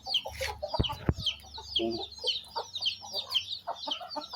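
Hens cluck with a newly hatched brood of chicks, white and brown, in a crowded coop; a steady chorus of high peeping chicks runs throughout, with close clucks and a couple of sharp louder calls early on.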